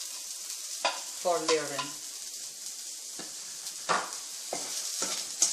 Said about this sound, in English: Let's caramelize these onions, as we have to keep them separate